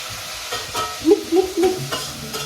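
Onions fry in a pan with a steady sizzle while a spoon stirs and scrapes through them, close and clear, in a few short strokes.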